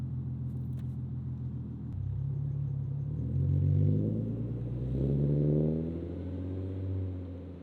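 A car with a raspy aftermarket Fast Intentions catback exhaust and test pipes rumbles past, its engine note swelling as it approaches and fading away, with no talking.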